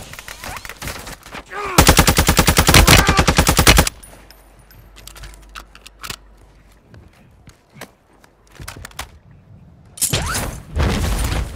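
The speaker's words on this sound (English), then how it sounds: "I'm taking enemy fire!" Automatic gunfire in Call of Duty Warzone 2 on the Ashika map: a loud, sustained burst of rapid rounds, then scattered lighter shots and thuds, and a second heavy volley near the end.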